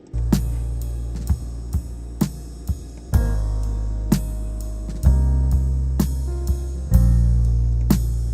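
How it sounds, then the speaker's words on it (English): Punchy kick drum hits playing back in a steady pattern, each thump deep and booming with a short decay, no other instruments or voices. "let's have a listen to the kick."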